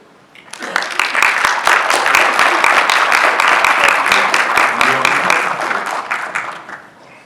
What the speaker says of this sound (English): You can please give him a round of applause as he comes to the podium